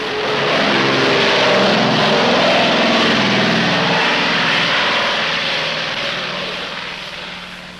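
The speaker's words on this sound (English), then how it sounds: "this strip handles 900 takeoffs and landings each day" A propeller aircraft at a primitive, busy airstrip in Laos drones loudly and steadily, close by, then slowly fades toward the end.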